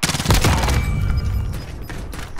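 Dense rapid gunfire from a Call of Duty Warzone match, a loud opening burst of overlapping shots with booming low end, then a continuing rattle of fire that tapers slightly, with no talk.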